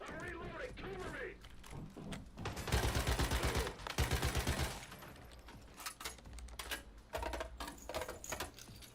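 Video game gunfire bursts in a dense, loud cluster midway through, among mechanical clatter and game noise, with a player talking over parts of it.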